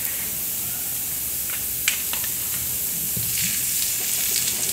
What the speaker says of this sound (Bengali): এখন আমরা সেই গরুর মাংসের যে কলিজা, সেই কলিজাটা ভুনা করব